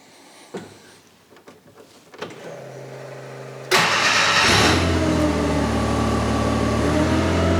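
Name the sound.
utility truck engine starting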